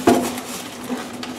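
A Pyrex glass dish clinks and knocks while a chuck roast is taken from a cooler, one sharp ringing glass contact at the start followed by a few soft handling taps, close and fairly loud.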